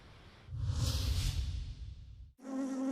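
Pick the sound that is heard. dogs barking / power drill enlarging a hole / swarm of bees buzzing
swarm of bees buzzing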